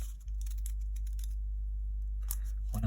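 Sharp scissors snipping through folded paper for a hand-cut kitrigami star, a quick series of close, crisp cuts, then a pause and a couple more snips, with a low steady hum underneath.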